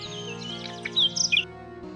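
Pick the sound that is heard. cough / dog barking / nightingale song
nightingale song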